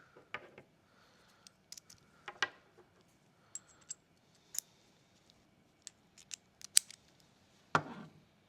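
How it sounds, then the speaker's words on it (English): A torque driver tightening the screws of an optic mount on a Taurus revolver, a close, quiet series of sharp ratcheting clicks at irregular intervals with short pauses between them. "we can switch over to our torque driver"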